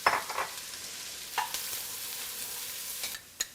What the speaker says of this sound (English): I'm going to put in 2 tablespoons of extra virgin olive oil, followed by 2 cups of diced white onion